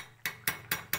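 Clicks of a gas stove knob being turned off in a home kitchen after cooking a fish-head curry: four sharp, evenly spaced clicks, close and fairly quiet, with no voice.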